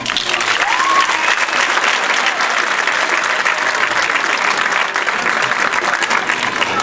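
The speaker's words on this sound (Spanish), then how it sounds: "ahora un fuerte aplauso" An audience at a Christmas festival bursts into loud, sustained applause, a dense steady roar of clapping from a large crowd, with a brief cheer early on and scattered voices under it.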